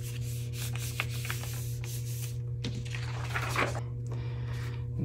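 Ink is rubbed by hand onto a surface for a foiling craft project, giving soft, close, repeated brushing and scuffing strokes over a steady low electrical hum, with no talking.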